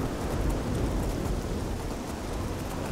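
A thunderstorm in the video game Oblivion: a steady, dense wash of heavy rain with low rumbling thunder, loud and continuous throughout without any voices.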